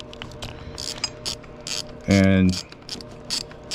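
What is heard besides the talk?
ratchet unscrewing power steering bolt on GM 3.8L engine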